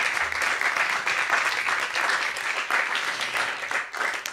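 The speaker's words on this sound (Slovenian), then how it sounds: "si zasluži en aplavz" An audience applauds a jazz quartet of saxophone, double bass, drums and another player at a club concert, a continuous wash of many hands clapping, fairly loud and steady throughout.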